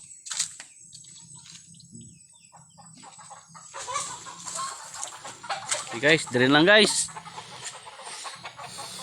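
Chickens cluck and a rooster calls nearby, with a person talking over the birds in an outdoor farmyard setting.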